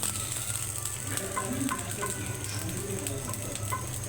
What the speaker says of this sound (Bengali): এটা এখন আমি ভাজা ভাজা করে নেব মরিচটা মশমশা করে ভাজা নিতে হবে